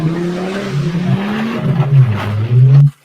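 A half car, cut down the middle and running on caster wheels, drives fast. Its engine drones continuously with a rising, revving pitch, loud and close, then cuts off abruptly at the end.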